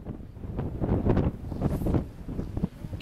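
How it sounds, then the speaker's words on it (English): Wind gusts buffet the microphone on an open field at an afternoon casting tournament, producing a loud, rumbling roar that swells and fades over a few seconds. No other sound stands out. "Wind's blowing."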